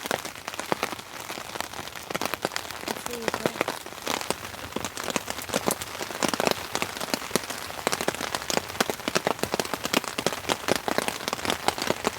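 Steady light drizzle patters on a camping tarp in the wilderness, a dense continuous crackle of fine drops with occasional heavier taps, fairly close and soft, with no voices.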